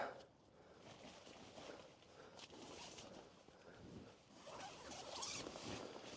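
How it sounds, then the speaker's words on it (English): A tent zipper rasps open in short, uneven pulls, close by, with fabric rustling between the strokes. "Struggling to open the zipper with one hand"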